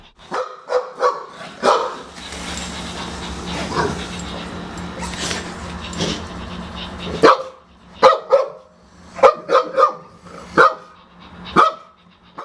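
A robotic interactive toy dog barks in short, sharp bursts, first a dense run of yaps with some whimpering over a steady hum, then a series of separate close barks after a brief pause.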